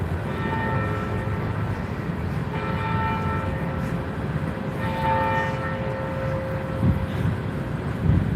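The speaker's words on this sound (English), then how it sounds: "Clock chiming, train moving." A town clock bell in Fairbury, Nebraska chimes in slow, evenly spaced strokes with long ringing tones, heard over a low, continuous rumble of a moving train.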